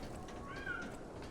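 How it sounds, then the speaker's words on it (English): A cat in the video game Lies of P gives a single soft, rising meow, faint and brief against a quiet ambient background. "Meow indeed, friend."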